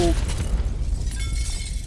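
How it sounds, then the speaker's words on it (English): An explosion rips through a corridor in the video game 428 Shibuya Scramble, a single loud, dense blast that rumbles on and decays across roughly two seconds with no voices over it. "A sudden explosion from within the corridor sent Tatenos carrying it off balance"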